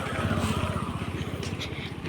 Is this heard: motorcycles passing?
yes